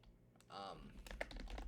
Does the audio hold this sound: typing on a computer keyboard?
yes